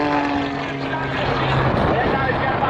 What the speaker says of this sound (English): Now he converts that into a snap roll, a double snap roll, a triple snap roll on top of the loop, and flies the airplane around the backside of the loop.